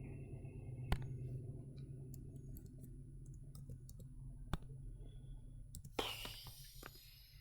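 Sparse computer mouse clicks, sharp isolated ticks scattered over several seconds above a steady low room hum, with a brief burst of rustling near the end.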